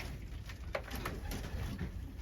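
A male pigeon hatched in 2022, now in its second season in the loft, gives low, soft cooing, faint and close, over a quiet hum.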